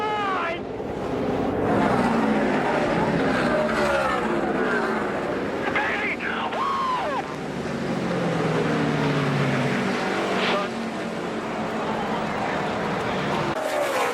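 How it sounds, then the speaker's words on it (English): NASCAR Nationwide Series race cars roar past at speed with sweeping engine whines and crowd noise beneath loud continuous race commentary. "Brendan Gaughan has won a NASCAR Nationwide Series race"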